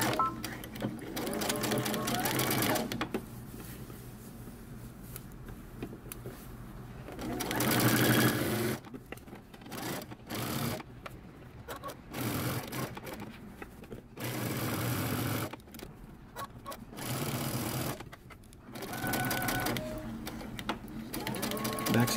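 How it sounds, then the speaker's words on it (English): A sewing machine runs a 5/8-inch seam on a men's fitted shirt in bursts of steady whirring stitching, pausing between runs, with a voice talking at times. "we're going to stitch using 5/8 of the inch seam allowance all the way across."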